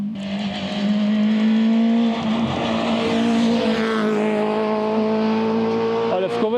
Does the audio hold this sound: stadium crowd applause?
no